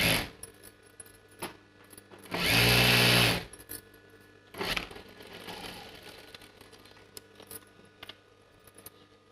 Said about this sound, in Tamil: அந்த சைடு பிரியாமல் இருக்கிறதுக்காக ஒரு சைடு ஃபுல்லாக அப்படியே தையல் போட்டுடலாம்